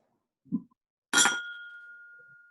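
Whiskey glasses clink together in a toast, one bright sharp chink with a long ringing tail, heard alone after a brief soft sound.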